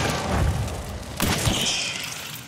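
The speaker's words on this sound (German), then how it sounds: "hier ist auch was explodiert" A booming explosion in the video game Hunt: Showdown rumbles low, followed by a second sharp blast and a fading hiss of debris.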